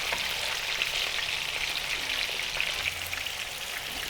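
Fish pieces fry in hot oil for a fish curry (machli ka salan), giving a steady, dense crackling sizzle with scattered pops that runs without a break and no voices.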